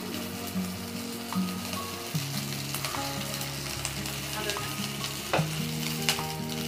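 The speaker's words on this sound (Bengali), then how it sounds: "একই প্রসেসে আমি বাকিগুলো ভেজে নেব" Potato sticks fry in a shallow layer of oil, giving a steady close sizzle with occasional stirring scrapes, while steady tonal background music runs underneath throughout.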